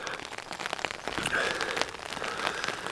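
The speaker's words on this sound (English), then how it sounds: "Yeah, it's very raining, guys." Heavy rain falls steadily and close by, a dense hiss of drops pattering on surfaces with no voices over it.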